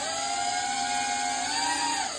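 A DJI Avata 2 FPV drone hovers and flies nearby, its propellers giving a steady high-pitched whine that bends upward briefly near the end, loud and continuous with no talk.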